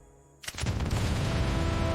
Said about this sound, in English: A 2-kiloton nuclear warhead detonates just 300 feet above the harbor.